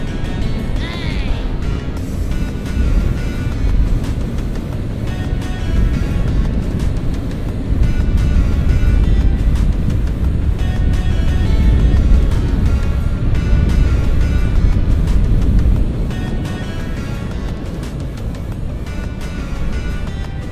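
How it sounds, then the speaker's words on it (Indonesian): Honda CB150R motorcycle at full throttle on an open road, a loud sustained engine roar mixed with heavy wind rush that swells midway and eases near the end, no speech over it. "Kita tancap gas cuy."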